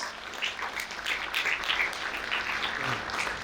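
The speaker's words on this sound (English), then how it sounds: "Shall you have a big round of applause?" Steady applause from the audience at a golden reunion ceremony for the 1971 batch, broad and even throughout, with no distinct voices over it.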